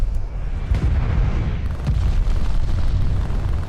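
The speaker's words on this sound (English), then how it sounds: "Friendly glide bomber incoming." Glide bomber explosions in Call of Duty: Vanguard battle royale, a dense rumbling barrage of booms rolling continuously, loud and close with no talk.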